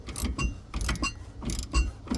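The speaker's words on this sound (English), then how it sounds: "it's easier to do that with two ratchets, one to lock the head of the bolt in." Ratchet wrench working on a shock absorber bolt on a 3/4-ton Chevrolet van, with the bolt head held by a second ratchet: close, uneven mechanical clicking and clunking in short bursts, with no voices.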